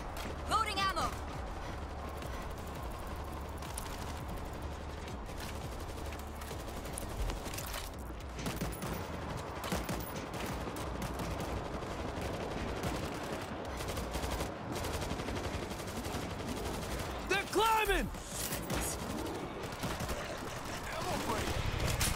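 An auto turret in World War Z fires steady, sustained automatic gunfire amid chaotic combat noise, with voices speaking over the shooting.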